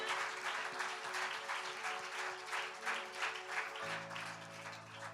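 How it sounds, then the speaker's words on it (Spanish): Steady applause from a church congregation, sustained clapping at an even level throughout with a faint hum underneath. "Vamos a darle fuerte ese aplauso al rey."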